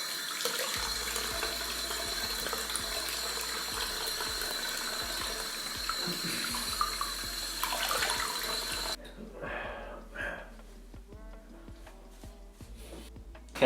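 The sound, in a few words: water running while rinsing a shaved head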